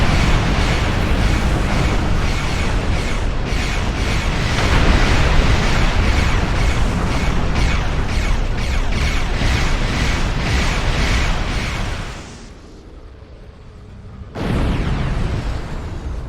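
Star Trek Online space battle with defensive cannon fire and explosions: a dense, continuous barrage of loud booms and bursts that drops out briefly near the end before resuming.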